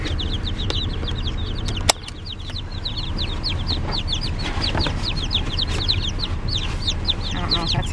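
Chickens cluck and chirp continuously at close range while being buckled in for a move, with one sudden burst of wing flapping early on and soft rustling beneath.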